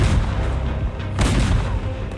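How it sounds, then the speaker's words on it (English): Napoleonic-era French artillery fires cannonballs at frozen ponds in a history documentary, heard as loud, heavy, rumbling booms that swell twice over a dense low roar. "French artillery opened fire, trying to smash the ice with their cannonballs"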